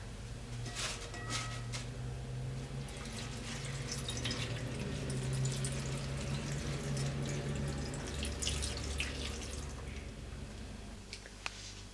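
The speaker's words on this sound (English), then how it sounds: "I'm just going to cover the spinach with water." Water pours steadily into a pot over a bag's worth of spinach, a continuous close splashing rush that lasts throughout, with no speech.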